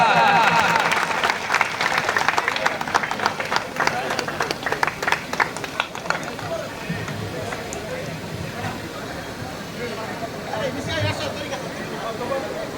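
A crowd at a prize distribution in Rayagada claps loudly, the sharp clapping strongest at first and then thinning out, with people talking over and after it.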